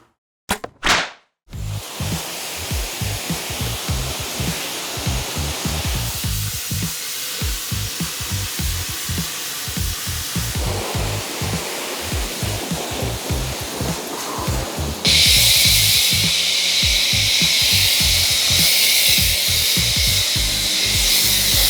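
A pressure washer sprays water across a Bentley Brooklands outdoors, a loud continuous hiss with rapid pulsing bursts, stopping briefly at the start and turning brighter and stronger midway.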